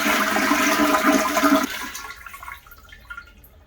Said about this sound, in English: But first things first, turn the water off, flush it,